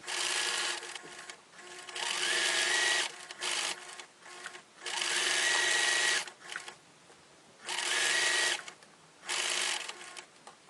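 A sewing machine runs down a fabric seam in four separate bursts of fast, rattling stitching, each lasting a second or two, with short quiet pauses in between. The sound is close and fairly loud.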